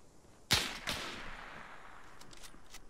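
Gunshots in the military video game Arma 3: a sharp close report followed by a second shot, then faint scattered distant pops with a lingering tail.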